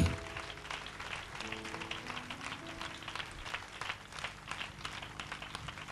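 A church congregation applauds to acclaim the Lord, giving dense, continuous clapping that holds steady under a low murmur of voices and a faint, sustained tonal hum.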